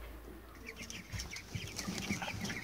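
Young chicks about twenty days old in a poultry house, a steady crowd of soft peeps and chirps continuing throughout, fairly faint and with no talk over them.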